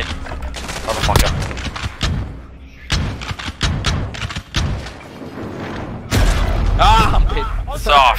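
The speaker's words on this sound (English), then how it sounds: "Oh, God, it's a shotgun." Shotgun blasts and other gunfire in a Call of Duty: Modern Warfare 3v3 match, loud sharp bursts scattered through the clip alongside thuds, with a player talking over much of it.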